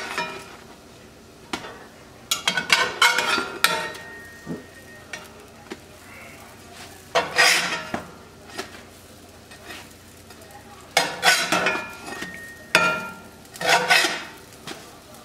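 Homemade English muffins fry in olive oil in a pan, sizzling steadily while a utensil scrapes and clacks against the metal in several bursts as they are flipped over.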